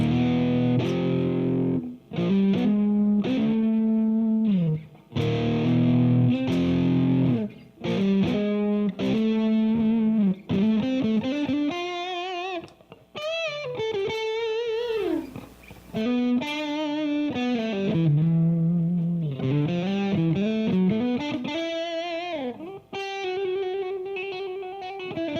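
An electric guitar played through the Overloud TH-U amp simulator on a rock preset gives a distorted tone of chords and single-note phrases, loud and continuous with short gaps between figures, and no talking.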